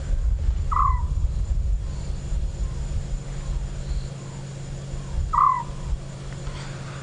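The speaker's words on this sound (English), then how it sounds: "It's a little scops owl and you can hear it calling." A little scops owl calls twice from close overhead during an evening safari drive, each a short, clear whistled note several seconds apart, over low vehicle rumble and ambient noise.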